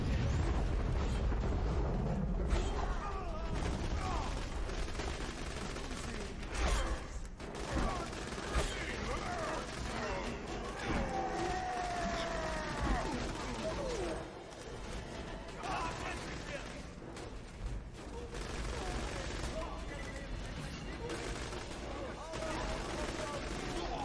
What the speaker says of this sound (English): in an enclosed area where I just fire a shotgun somewhere